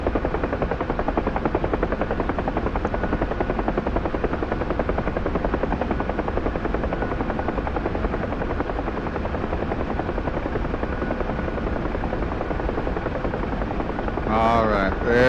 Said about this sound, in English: I don't want to lose our rotors here, so watch that RPM.